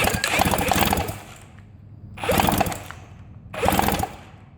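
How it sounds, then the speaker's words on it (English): Power drill running in loud whirring bursts that cut out three times, each burst lasting about a second before dropping to near silence, close to the listener. "This drill keeps cutting out."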